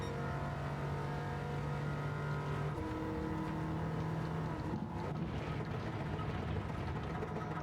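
Bugatti Veyron lapping Sardegna Road A in Gran Turismo 7, a continuous high engine drone with tones shifting through gear changes, steady and loud throughout with no speech.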